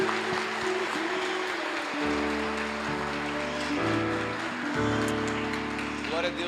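A church congregation claps along during a worship service, steady dense applause with a rhythmic feel over sustained organ or keyboard chords, close and fairly loud throughout.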